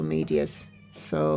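A pet cat meows twice in quick succession near the start, then once more at the end, with someone talking in between.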